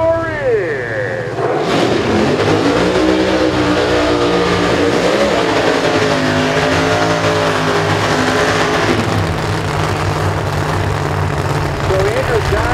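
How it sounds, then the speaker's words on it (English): A supercharged Hemi 2010 Camaro drag race car launches and accelerates hard, its screw blower whining over a loud, sustained engine roar at the racetrack, with an announcer talking over the noise. "the screw blower coming up in the Bumblebee 2010 Camaro"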